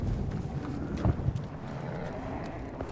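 An injured horse in Hunt: Showdown, heard through a few soft hoof thuds and snorting or shuffling noises, faint and close, with low rumbling ambience behind.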